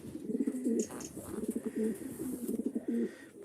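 A racing pigeon coos in a loft, several soft rolling coos in a row, close and clear over faint background hum.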